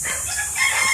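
Native chickens cluck and call briefly up close, a short burst of fowl sounds with no talking.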